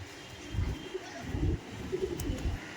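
Pigeons in a loft housing Andhra and master breeds give low, rhythmic cooing, with a few soft pulses repeating through the clip over a quiet background.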